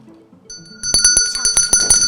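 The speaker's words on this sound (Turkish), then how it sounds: "Mavi masa zili ilk önce çaldı." A quiz-table buzzer bell rings rapidly and repeatedly, a fast series of bright metallic clanging strikes with a sustained high ringing tone, close and fairly loud.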